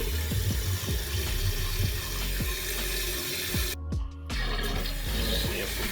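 A toilet with a newly installed universal repair kit flushing and its tank refilling, steady rushing water with gurgling pulses and a brief cut-off partway through, then the flow resumes.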